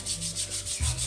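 A child scrubs a shoe with a brush at a washboard, giving a steady rhythmic rubbing and swishing of bristles, close and fairly loud, with no talk.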